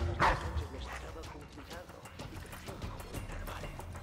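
Dogs in a Dishonored 2 game scene give a sharp close bark near the start, then further scattered barks and yips under the player talking.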